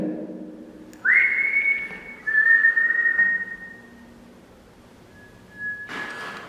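Loud human whistling nearby in a room of the former HMP Shrewsbury prison: a rising note, then a long steady tone and a shorter one, followed by a brief burst of noise.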